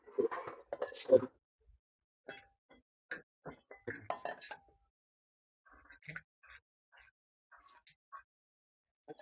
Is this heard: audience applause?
no